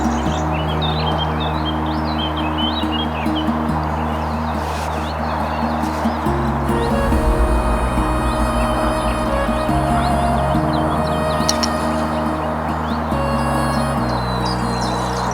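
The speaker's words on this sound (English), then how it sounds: "The sun is shining, the colors are bright, and the birds are chirping." Birds chirp outdoors on a sunny first of May near Frankfurt am Main. Bright, scattered calls and clucks of fowl ring over a steady low background hum throughout.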